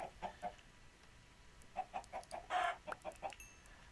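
Chickens cluck in a Minecraft game, a few short clucks near the start, then a busier run of rapid clucks and squawks in the second half, clear and close with no talk.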